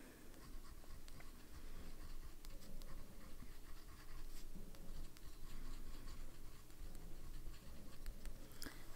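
A fountain pen filled with Monteverde California Teal ink writes on paper, producing a steady close scratching with small ticks and pauses between strokes over a low background hum.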